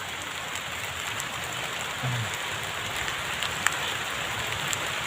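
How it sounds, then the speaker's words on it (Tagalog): Heavy rain pours steadily during a fishing outing, a dense, even hiss of drops on surfaces that fills the whole stretch, with a faint low thump partway through. "malakas na yung ulan"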